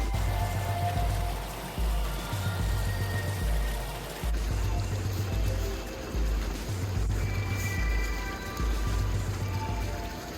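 Granular pool shock being scattered into the water of an Intex 20 ft by 52 in Prism Frame above-ground pool, giving a steady rain-like patter over a low, rhythmic pump hum.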